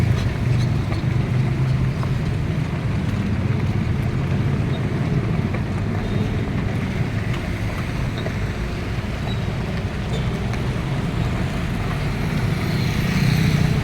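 Light road traffic on Diversion Road in Davao City, Philippines: a steady low rumble of passing vehicles with wind noise and no distinct horns, carrying on evenly throughout.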